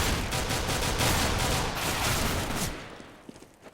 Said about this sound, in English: Again, just slow down your pistol shots.